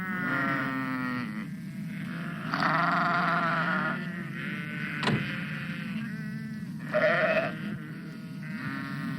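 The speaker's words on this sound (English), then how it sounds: "It was Alf Thompson driving his sheep across the road." A flock of sheep bleats steadily as it is driven across a country road, overlapping calls rising and falling at moderate distance with a brief sharp click partway through.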